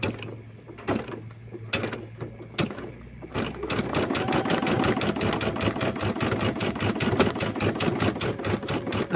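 A Brother embroidery machine strapped down with ties runs with a fast, steady mechanical needle clatter; a few separate thumps come first, then continuous rhythmic stitching fills the rest, close and fairly loud.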